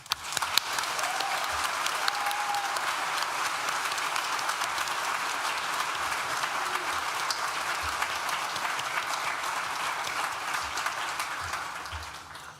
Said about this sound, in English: Please join me in thanking them with a well-deserved and very loud round of applause.